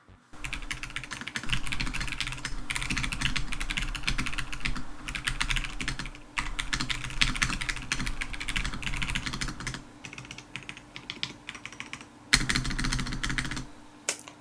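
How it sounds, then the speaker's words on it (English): Rapid typing on a Blue Eyes White Dragon themed HIGHGROUND mechanical keyboard, dense clacking keystrokes in bursts with brief pauses, close and crisp with no talking. "We gotta do a little ASMR sound test with this thing."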